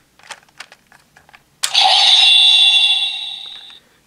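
Electronic sound effect from a DX Bujin Sword buckle toy for Kamen Rider Geats, triggered on unsheathing: a few small plastic clicks, then a sudden loud bright synthesized burst that holds for about two seconds and fades.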